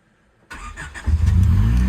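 A Honda Civic EG with a newly bolted-up exhaust and added resonator cranks and fires after a moment of quiet, settling into a deep, close, rumbling idle with no talking.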